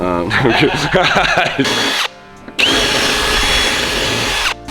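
A power drill removes mounting brackets from an S13 during livery work. It whirs loudly and close in two long bursts separated by a short pause, and a voice briefly sounds over the start.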